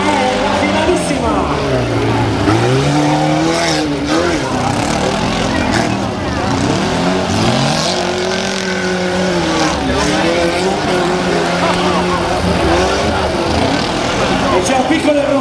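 Demolition derby cars race hard in the final at Bargino near Florence in 2011, with loud engines revving up and down in sweeping waves, tires squealing and skidding, and a crowd and commentator talking over the noise.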